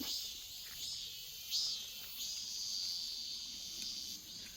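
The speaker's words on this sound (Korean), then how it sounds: "매미야." Cicadas chirp in a hillside forest along a country path, a shrill, pulsing high drone that swells and fades in waves, fairly faint and continuous.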